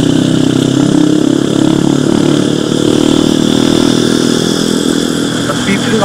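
A motorcycle engine runs steadily and loudly close by, a constant throbbing drone that holds throughout while people talk over it.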